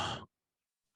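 A voice imitating the heavy breathing of an obscene phone caller: one short, breathy exhale that stops abruptly, followed by silence.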